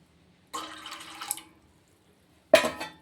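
Buttermilk diluted in water is poured into a vessel in a home kitchen while banana flower is prepared, two short splashing pours separated by a brief pause, close and clear.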